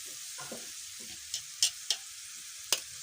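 Two eggs hit hot oil in a frying pan, giving a soft steady sizzle with a few sharp crackling pops scattered across a few seconds.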